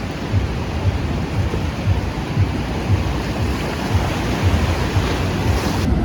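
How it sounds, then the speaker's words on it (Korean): Heavy surf roars continuously at a beach in Uluwatu, Bali, strong waves crashing and rumbling with a steady, dense wash of noise and no voices. "슬로반 비치는 파도가 굉장히 세게 들어와서"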